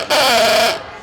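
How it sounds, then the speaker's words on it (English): A clown horn prop sounds one loud, bright, nasal honk lasting just over half a second. It is heard alone at a trade-show booth and fades quickly when it stops. "Clown blaster is a clown sound."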